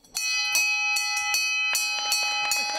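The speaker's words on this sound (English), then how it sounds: "That bell signifies the completion of a patient's fractionated course of radiation therapy." A bell in a radiation therapy clinic is struck repeatedly, marking completion of a patient's course of treatment; bright ringing strikes with long sustained overtones, about seven clear hits in an irregular rhythm, close and loud with no talk.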